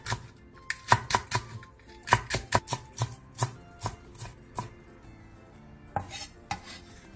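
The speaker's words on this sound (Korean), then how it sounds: "청양고추 2개를 어슷썰고 대파 3분의 1개는 쫑쫑 썰어주세요." A knife chops onion, chili peppers and green onion on a cutting board in a steady run of sharp, close taps that pause briefly before a few final strikes, no voices present.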